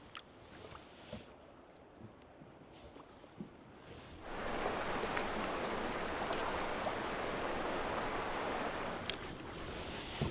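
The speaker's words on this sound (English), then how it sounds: "Well, that was a lovely set of rapids" River rapids in Algonquin Park, heard after a quiet stretch of faint outdoor sound, rise into a steady, broad rush of flowing water that holds for several seconds, moderately loud and alone.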